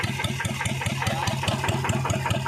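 A TF105LM engine on a tractor runs steadily nearby, a loud rhythmic chugging pulse at an even idle pace.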